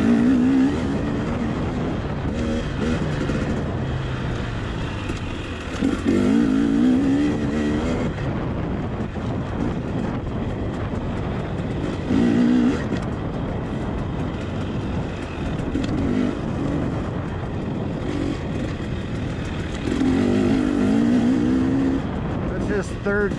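A 2021 KTM 300 XC two-stroke dirt bike engine burbles near idle in third gear while being ridden, with repeated short revving swells over a constant drone as a rider talks throughout.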